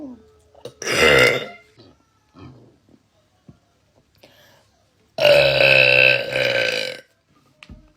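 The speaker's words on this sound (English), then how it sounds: "Biggest burp I can." A woman burps loudly twice close to the mic, a short rough belch followed after a pause by a long, deep, drawn-out one, with faint breaths and small noises in between.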